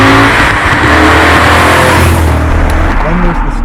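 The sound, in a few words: 2002 BMW E39 M5 engine induction noise while revving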